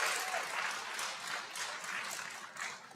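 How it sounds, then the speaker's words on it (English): Audience applause at a Cherokee Nation principal chief and deputy chief debate, steady dense clapping from a crowd, fairly faint and distant, rising and falling slightly over a few seconds. "Please hold your applause."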